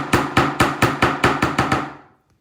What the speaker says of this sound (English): So I'm actually going to continue to hammer this.